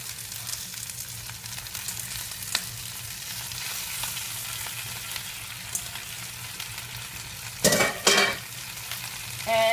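Spinach sautéing in a pan with browned onions and garlic for a one-pan Italian chicken dish, a steady close sizzle and hiss running throughout, with a louder burst of crackling and stirring near the end.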